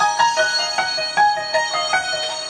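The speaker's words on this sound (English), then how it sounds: "I layered it with a bunch of bells, digibells, spectral bells, and something called Euro AR piano" Layered piano with Hypersonic reverb, doubled by digibells, spectral bells and a Euro AR piano patch, plays an unquantized chiming phrase of bright, bell-like notes that ring out with a soft reverberant tail, with no voices.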